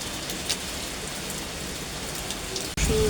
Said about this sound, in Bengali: সুহারে বৃষ্টি হচ্ছে